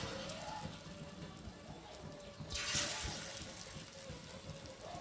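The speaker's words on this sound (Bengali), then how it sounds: "এখন আমি একে একে ছোট ছোট করে দিয়ে বড়াগুলোকে ভালো করে ভেজে নেব" Small fritters of egg, onion, potato and gram flour fry in hot oil, a soft, continuous bubbling sizzle with a brief louder flare partway through.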